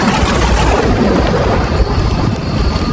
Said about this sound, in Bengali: বিকট এক শব্দে বাজ পড়ল আকাশ থেকে তাদের 5 জনার মাথার উপর।